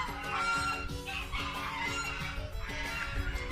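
Constant overlapping honking and quacking calls from a flock of mixed duck breeds in Kayseri, Turkey, nearby and noisy, with no talking.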